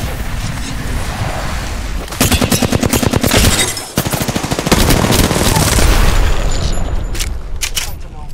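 Rapid automatic gunfire crackles in an Apex Legends match, with loud, sustained bursts, a brief break, then more shooting; game sounds and faint voices sit underneath.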